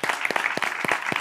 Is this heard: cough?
no